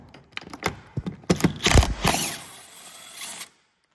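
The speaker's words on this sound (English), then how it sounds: "The electric ratchets, the electric screwdriver is really nice." A handheld electric ratchet drives fasteners on a BMW E36 during fuel and coolant system work, giving several short mechanical whirring and clicking bursts close by before it stops.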